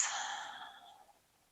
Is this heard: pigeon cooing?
no